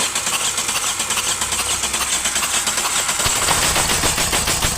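A Toyota Etios with a no-start fault (code P1604) being cranked by its starter in a workshop: a steady, loud, rhythmic mechanical chugging that grows heavier toward the end without catching.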